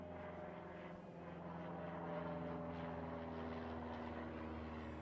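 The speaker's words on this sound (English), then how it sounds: "We constantly have small planes like that crossing over us." A small propeller plane drones overhead in an outdoor rural setting, a steady, fairly loud engine hum that swells slightly as it passes, with no voices.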